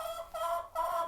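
Hens in a backyard chicken coop cluck in three short repeated bursts, close and clear with no talk over them.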